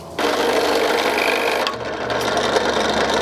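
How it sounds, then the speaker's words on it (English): A drill press bores through vinyl J channel against a template, a loud continuous whirring grind that starts abruptly and eases briefly before carrying on. "we use our template here to drill against our J channel"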